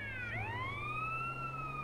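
Ambulance siren from the video game GTA San Andreas, a single sharp dip then a long rising wail, loud and steady over a low engine hum.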